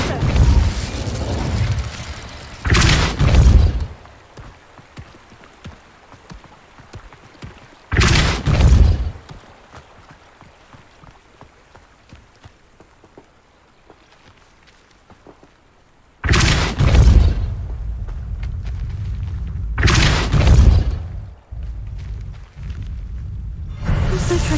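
Expulso spell explosions in the video game Hogwarts Legacy, several loud separate booming blasts spaced seconds apart, each with a short rumbling tail, with quieter game ambience between them.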